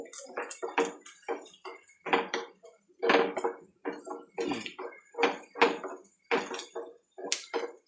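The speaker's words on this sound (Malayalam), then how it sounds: "സവാള നല്ലതായിട്ട് മൂക്കണം മൂക്കുന്നിടം വരെ ഇളക്കണം" A spoon stirs sliced onions frying in a pan with a little tamarind, producing a steady rhythm of close, repeated scraping strokes, each a short burst with brief gaps between.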